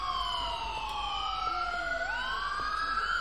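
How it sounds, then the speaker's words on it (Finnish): Police car and ambulance sirens in the video game GTA IV wail together steadily and loudly, one pitch sweeping down then climbing again over a constant traffic rumble, with no voices. "ja sieltä saapuu ulias ja ambulanssi"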